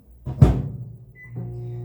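A microwave oven heating a piece of crumbly cheese: a door clunk, then the fan hum and low drone starting up steadily, close and quiet.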